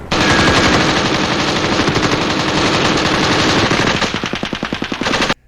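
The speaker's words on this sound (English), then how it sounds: "It has the sound of gunfire." Sustained automatic gunfire, loud and continuous, a dense rapid stream of shots with no talking.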